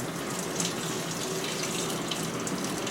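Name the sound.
2006 GE Profile washing machine filling with water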